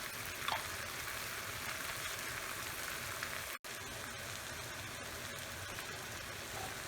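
Ampalaya with shrimp frying and being stirred in a pan, a steady hissing sizzle throughout with a brief gap midway, close by and fairly quiet.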